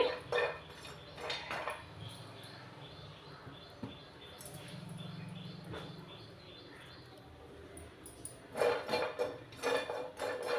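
Grated dried coconut is dry roasted on low heat in a pan, with quiet scraping and clinking of a spatula against the metal, coming in bursts of stirring between calmer stretches.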